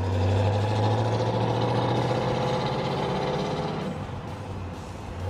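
A deep, rumbling Ram Air IV V8 engine in a 1970 Pontiac GTO Judge, with a free-breathing cam, idles steadily up close, its low throb holding even before easing slightly toward the end.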